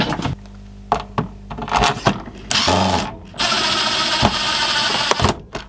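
A power drill whirs in bursts while working on the tape mechanism of a 1981 Pioneer SK200 boombox, with clicks and thunks of parts being handled between the runs, close and fairly loud.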